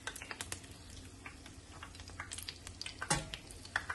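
Corn dogs frying in hot oil, a busy crackling sizzle with quick bubbling pops and a louder burst near the end, heard alone without talk.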